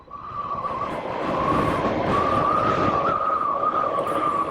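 A 2020 Harley LiveWire electric motorcycle on the move gives off a steady, high motor whine that climbs slightly in pitch, carried over loud rushing wind noise.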